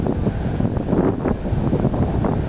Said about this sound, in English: It seems like the breeze has died down, but it has not.